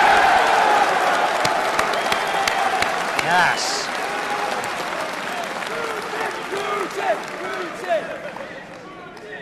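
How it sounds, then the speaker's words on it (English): Crowd applause at an event swells loudly at the start, then thins as people keep clapping and cheering, with voices talking over it and a single short spoken reply partway through. "Can we give a round of applause for Russia?"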